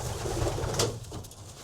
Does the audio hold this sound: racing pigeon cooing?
yes